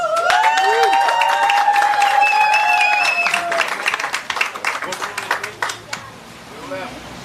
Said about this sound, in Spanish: Un aplauso fuerte un vez más para los Prince y Pancho adulto de Carnaval 71